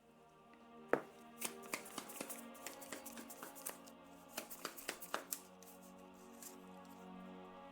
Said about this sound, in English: I'm gonna shuffle these back into the thing because I'm not buying any techs